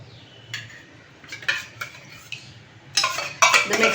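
A spoon scraping and clinking against a bowl while curd is stirred together with other ingredients, with soft irregular taps at first, then louder, quicker scrapes toward the end, close and alone.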